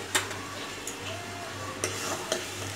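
Garam masala and spices are stirred in a pan for a moong dish, with a soft continuous scraping, faint sizzle, and a few brief clinks of the spoon, no talking.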